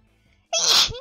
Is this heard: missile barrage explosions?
no